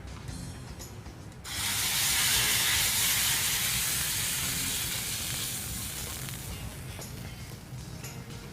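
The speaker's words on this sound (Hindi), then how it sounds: "अदरक के साथ इसको हमने तड़का लगा दिया है।" Loud hot-oil tempering with ginger poured over Peshawari chicken karhai, a sudden bright sizzling hiss that bursts in and slowly fades over several seconds.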